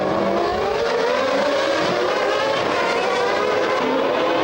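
Formula 1 race cars at the 1994 Monaco Grand Prix, a steady loud engine roar with a high buzzing whine sustained throughout, no voices.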